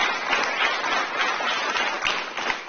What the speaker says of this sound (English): This audience is like laughing with him and clapping